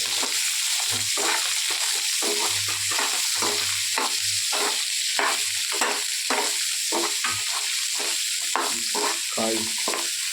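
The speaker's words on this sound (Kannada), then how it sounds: "ಅದ್ರ ಜೊತೆ ಮೂಲಂಗಿ ಹಾಕಿ ಚೆನ್ನಾಗಿ ಫ್ರೈ ಮಾಡಬೇಕು" Grated radish sizzles in hot oil in a pan while being stirred, a constant loud frying hiss broken by repeated scraping strokes of a spatula.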